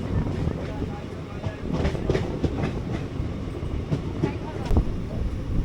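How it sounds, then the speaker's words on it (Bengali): Train pulling into Nabadwip Dham station, rolling clickety-clack of wheels over rail joints with steady carriage rumble from on board, close and continuous with occasional sharper clanks. "এবার আমাদের ট্রেনটি পৌঁছালো নবদ্বীপ ধাম স্টেশনে"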